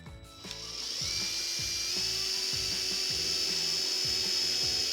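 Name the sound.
drilling pilot hole with 3/16 inch drill bit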